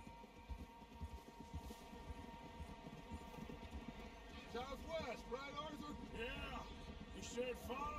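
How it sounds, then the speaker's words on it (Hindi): Horse hooves clip-clopping in Red Dead Redemption 2, a steady quiet trot held low beneath continuous game ambience, with tonal sounds and faint voices rising partway through. "घोड़े इधर आते हैं इधर।"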